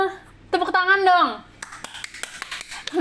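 A few people clap their hands at a podcast recording, a quick scatter of sharp claps following a woman's drawn-out vocal exclamation, close and moderately loud.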